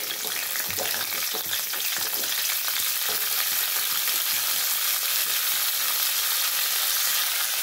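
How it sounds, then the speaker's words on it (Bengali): Cut drumstick stalks frying in hot oil with radhuni seasoning in a pan, a loud continuous sizzle with repeated utensil scrapes and stirring knocks throughout. "ডাঁটাগুলো দিয়ে একটুখানি নাড়ি চাড়িয়ে নেবো 1 মিনিট মতন।"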